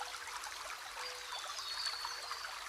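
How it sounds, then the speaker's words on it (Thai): A clear, cool stream of flowing water trickles and babbles steadily, soft and close, with no voices. "ลำธารใสเย็นฉ่ำอยู่ตรงหน้ามันดูเหมือนสวรรค์"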